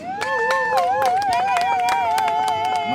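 Wedding guests cheer and clap together, with a steady patter of hand claps and shouts over a bright, sustained tone.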